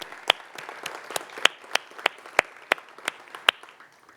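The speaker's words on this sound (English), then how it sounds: "let's have a nice round of applause for Owsley Brown" Audience applause for Owsley Brown, chair of the 2014 festival, at a program event: scattered individual claps with sharp peaks over a thin crowd patter, moderately loud and brief, with no talk.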